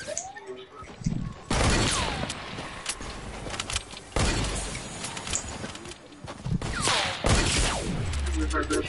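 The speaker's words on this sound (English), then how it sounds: "Bullet shot." Gunshots in a video game come as several loud sharp bursts spaced a few seconds apart, with cooing bird calls and speech in between.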